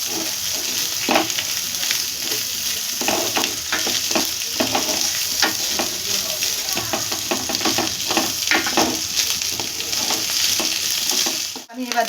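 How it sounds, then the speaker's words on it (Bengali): Raisins and cashews fry in a pan as part of a Kanika Bhog rice dish, giving steady close sizzling broken by scraping stirs, with no talk. "আমি কিশমিশটা দিয়ে দেবো, কাজুটাও দিয়ে দেবো। এর সঙ্গে আমি ভেজে নেব।"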